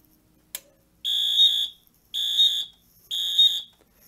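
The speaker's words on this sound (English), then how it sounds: "So say like there's a fire alarm." A fire alarm on a building panel system sounds in three identical loud electronic blasts, each about half a second long with short gaps between, preceded by a sharp click.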